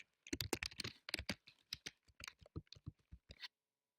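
Quick bursts of keystrokes on a computer keyboard while a display name is typed, close and crisp clicks in uneven runs that stop abruptly near the end, then quiet.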